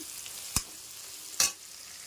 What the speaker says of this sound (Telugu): ఈ రొయ్యలు ఇలా డీప్గా వేగిన తర్వాత ఇవి కొంచెం వేపు పెట్టుకున్న క్యారెట్, క్యాప్సికమ్ కూడా వేసేస్తున్నాను.